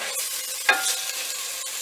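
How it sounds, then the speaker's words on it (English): Stew meat fries in melted fat to brown in a pan, producing a loud, continuous hiss and crackle that runs the whole time, with one brief scrape or stir partway through. "Pop a little fat to melt in your pan and then fry off to brown."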